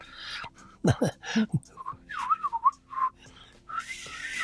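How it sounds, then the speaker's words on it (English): A man whistles a short, wavering tune after a few throaty sounds and breaths, the notes thin, uneven and slightly breathy, close to the microphone in a quiet room. "I don't whistle very good"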